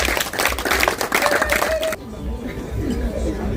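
A church congregation claps and cheers in praise of Jesus at a surprise 50th birthday celebration, a loud crowd burst under voices that cuts off sharply, leaving murmuring chatter.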